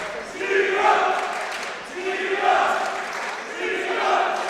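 Boxing crowd at York Hall cheering its home fighter, a broad roar of many voices that swells and eases in waves, filling the hall with no single voice standing out.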